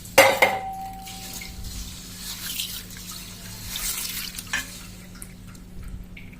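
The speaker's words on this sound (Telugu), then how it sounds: "ఇప్పుడు ఈ ఉలవల్లో కొద్దిగా వాటర్ పోసుకొని శుభ్రంగా కడిగి పెట్టుకోవాలి." Horse gram being rinsed with water in a metal vessel in a home kitchen: a sharp clatter of grain and water at the start, then soft sloshing and splashing with occasional knocks against the pot, fairly close.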